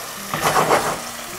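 Vegetable broth poured into a hot pan sizzles with a rising hiss that swells for under a second and then settles into a steady bubbling.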